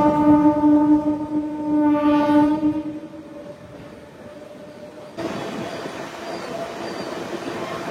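A train pulling into Kakinada Town junction sounds a long, loud horn blast. The horn fades into rumbling carriage and rail noise, then a brighter wash of wheel and track sound as the train rolls in.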